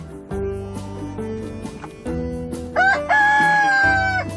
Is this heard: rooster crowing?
yes